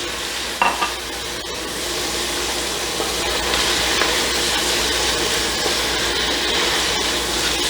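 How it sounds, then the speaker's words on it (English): Water hits a hot pan and a utensil scrapes up browned bits while cooking franks and beans, with a brief splash followed by a sustained loud hissing sizzle and scraping. "I'm going to put a little bit of water on the bottom there. Just to get up all our nice brown parts."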